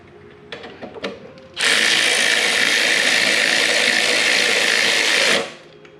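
A ratchet snugs a 10 mm bolt on the front brake of a Harley-Davidson Street Glide Special, a loud, steady mechanical whir lasting about four seconds after a few faint clicks and taps.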